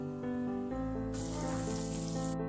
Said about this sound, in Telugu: అల్లం వెల్లుల్లి పేస్ట్ కొద్దిగా, చేసుకున్నాక పచ్చివాసన పోయే వరకు ఫ్రై చేసుకోవాలి